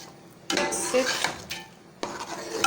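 Spoon stirring long gourd and chana dal curry in a metal pot, with green chilies and coriander leaves just added; clattering scrapes come in two bursts with a short pause between, close and fairly loud, with no talk.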